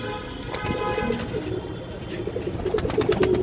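A black racing pigeon coos repeatedly in soft, low, rolling calls, with fluttering and scraping movements nearby and a faint background hum.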